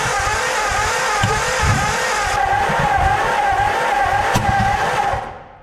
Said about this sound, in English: the backfiring could be firing order, but the backfiring could also be a valve or two hung open